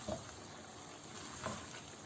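Aloo bhujia with chopped green chillies and fresh coriander is stirred in a pan, a faint soft sizzle with two light scraping strokes.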